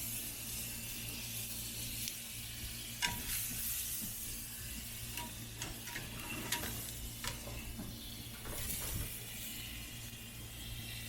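Half a stick of butter sizzles and crackles steadily in a hot pan beside a sous vide ribeye, with a continuous close frying hiss and occasional clicks and stirring sounds.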